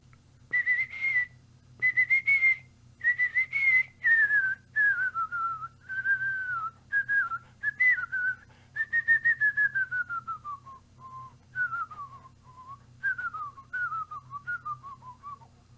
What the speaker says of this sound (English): one of my earliest instruments that I learned to play that on was whistling